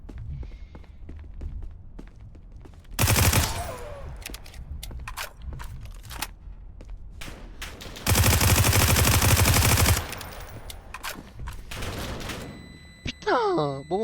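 Bursts of automatic gunfire in the Roblox game Apocalypse Rising 2, two long loud sustained volleys among shorter shots, with footsteps and game noise between them.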